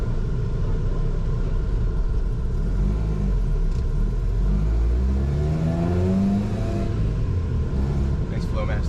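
A Toyota pickup truck with a Flowmaster exhaust rumbles loudly and revs up from inside the cab, the deep engine note rising steadily under people talking.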